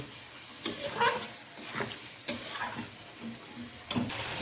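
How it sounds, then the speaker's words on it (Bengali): A spoon stirs coriander, cumin and turmeric masala frying in a pan for prawn dopiaza, making a soft sizzle broken by repeated scraping strokes at an irregular rhythm, close and fairly quiet. "এবার এটা ভাজা ভাজা মশলাটাকে এবার কষিয়ে নেব"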